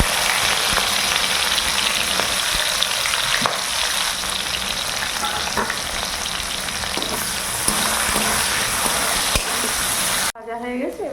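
Chopped onions frying in a pan with cardamom, cinnamon and salt, a dense, loud, continuous sizzle with occasional stirring clicks, close up, cutting off near the end where a voice briefly starts.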